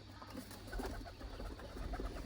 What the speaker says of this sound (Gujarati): જુઓ આ બધા કબૂતર છે